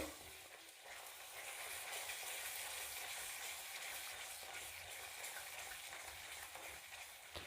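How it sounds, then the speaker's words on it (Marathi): Spices cook with a ground masala paste in a pan for Khandeshi shev bhaji, making a faint, continuous frying sizzle with light stirring noise and no talking. "हे सगळे जिन्नस वाटणासोबत चांगले परतून घेऊ"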